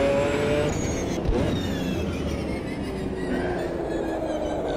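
A race car engine in Automobilista 2 revs hard and whines through gear changes during a close race, loud and continuous, with other cars droning nearby and tires briefly squealing.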